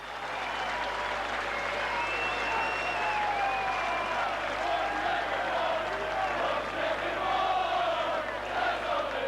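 A stadium crowd at a 1989 Leeds versus Bradford Northern rugby league Regal Trophy match gives a loud, sustained ovation of cheering, whistling and applause, a continuous roar from start to finish heard from a distance.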